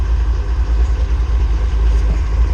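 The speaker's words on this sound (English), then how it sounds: "a quick little video with a cold start with it loping hard" A Dodge Challenger Scat Pack fitted with an MMX cam idles after a cold start, its engine note a loud, steady low rumble with a choppy lope, close up and with no one talking.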